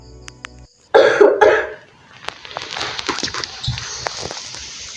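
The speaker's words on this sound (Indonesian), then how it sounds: "tiba-tiba ibunya batuk dan sesak napas" A woman coughs in a school theatre drama staging the legend of Lake Toba, two harsh hacking bursts close up followed by faint raspy, breathless sounds.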